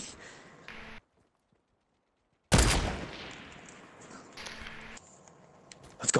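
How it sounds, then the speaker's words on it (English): Sniper rifle shots in Fortnite: a loud, sharp crack after a brief silence, with a long decaying tail and then a few fainter game sounds. "Oh, I sniped that dude."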